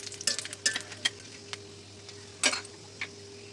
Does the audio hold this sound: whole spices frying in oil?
yes